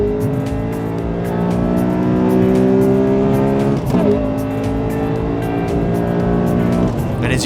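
Honda Accord Euro R accelerating hard from a standstill alongside a BMW 330Ci, engines roaring loudly and steadily with rising pitch and a brief gearshift dip midway, near and continuous throughout.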